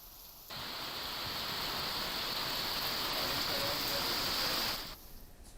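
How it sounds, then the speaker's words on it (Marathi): Steady rain falling in Buldhana district, a dense, even hiss that swells in abruptly, holds for several seconds, and cuts out again, with no talking. "बुलढाण्यामध्ये चिखली मेहकर तालुक्यामध्ये चांगला पाऊस पडलेला आहे।"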